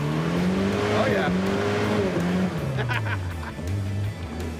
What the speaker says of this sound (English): It does do burnouts.